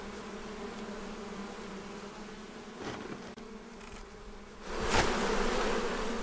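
Bees buzz inside a beehive in a steady, dense drone that swells louder near the end, with no voices.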